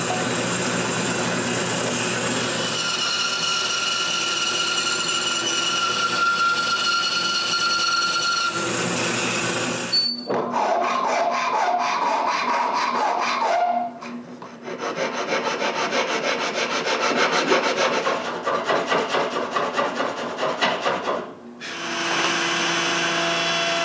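A wooden cane handle being shaped by hand with steady, continuous rasping and sawing strokes, fairly close and loud, with brief pauses between bursts of work.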